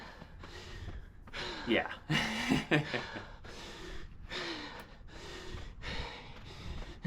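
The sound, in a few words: man breathing hard after running up a hill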